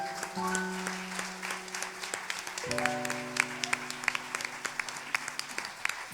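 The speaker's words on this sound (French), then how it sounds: "Acclamez d'abord pour vous-même." A gospel Christmas concert audience breaks into applause and cheering, dense clapping throughout with a sustained tonal note early on and sharp individual claps standing out toward the end.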